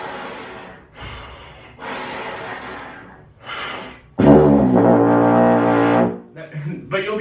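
A brass teacher demonstrates slow, heavy air blows for playing a low note. Several long, breathy exhales come close up, and the last one is louder with a buzzy, voiced tone.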